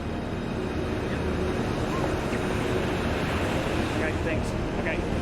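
Rough ocean surf near a coastal blowhole makes a constant, loud roar of waves and wash, mixed with heavy wind buffeting.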